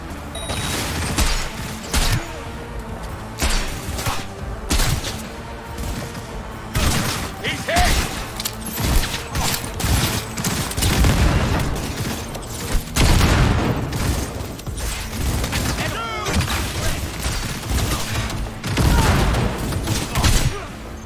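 Gunfire in the Cyberpunk 2077 video game: repeated bursts and single shots crack through a busy, noisy firefight, coming in dense clusters for about twenty seconds with mechanical clatter and intermittent voices mixed in.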